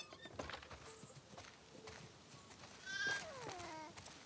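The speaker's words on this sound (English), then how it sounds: "Listen up, sheep." A few sheep bleat in The Last of Us Part II, short wavering calls spaced apart, with soft hoof clopping and quiet background movement.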